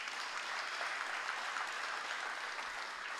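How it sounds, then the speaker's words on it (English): A chamber of commerce audience claps for a team, with a continuous wash of applause, fairly soft and distant, with no voices over it. "So let's give them another round of applause."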